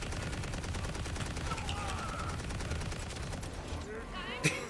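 Rapid cannon gunfire rattles in a Borderlands raid boss fight, dense repeated shots layered over in-game voices and effects, with a sharp burst near the end.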